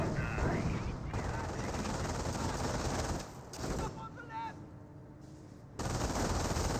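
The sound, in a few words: machine gun fire from a Staghound armored car in Company of Heroes video game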